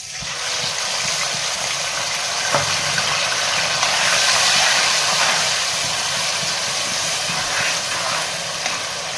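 Prepared masala paste of ground onion, garlic, ginger, green chilies and cumin sizzles in hot oil, a steady loud hiss filling the clip with a faint click partway through.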